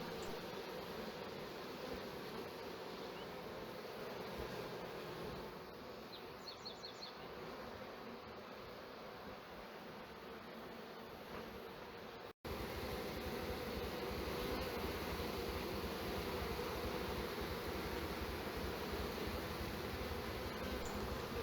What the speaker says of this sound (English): the bees eagerly marched inside the box